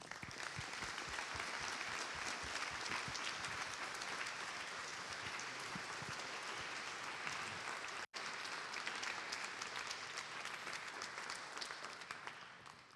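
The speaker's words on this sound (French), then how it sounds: "j'aimerais que nous aussi, nous saluons par nos applaudissements le fondateur de Savoir Suisse, Monsieur Bertil Galland." An audience at an evening event marking twenty years of Savoir suisse claps in sustained, dense applause that carries on steadily for over ten seconds before slowly fading, without speech.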